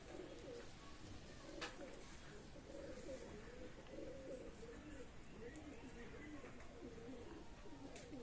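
Pigeons, a new Odal type kept as pets, coo softly in steady, overlapping low murmurs, with a faint background hum throughout.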